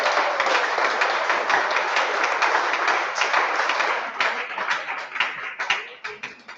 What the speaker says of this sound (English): So please let us give INEC a resounding round of applause.